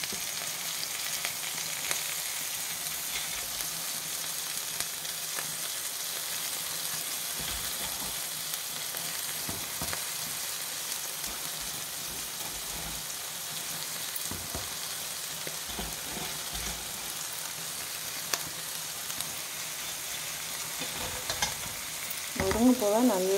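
Drumstick flowers being sautéed with onion and tomato in a pan, a steady sizzle with repeated scraping stir strokes throughout, close and moderately loud, no talking.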